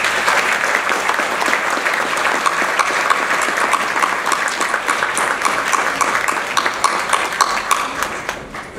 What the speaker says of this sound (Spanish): eso quisiera pedirles que lo hagamos con un caluroso aplauso